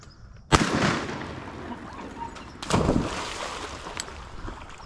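Two sharp shotgun blasts ring out during an early-season duck hunt in New York, each loud report followed by a long rolling echo across open water, the shots roughly two seconds apart under steady wind.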